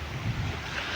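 Waves wash against a seawall by the sea in Naawan, a faint, continuous rushing surf mixed with wind noise over the microphone.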